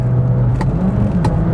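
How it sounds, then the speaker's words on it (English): A Fiat 500 Abarth's exhaust drones loudly and steadily while the car is driven, a close, continuous engine note with no voices over it. "And that exhaust note, it just feels angry."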